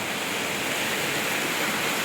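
Heavy rain pours down steadily in a dense, unbroken wash of hiss, loud and close, with no voices heard over it.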